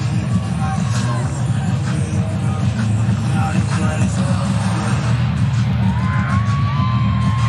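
Dense crowd noise fills Wallace Wade Stadium, home of the Duke Blue Devils, ahead of the kickoff against the North Carolina A&T Aggies, a steady roar with scattered whoops and yells that stays loud for the whole stretch.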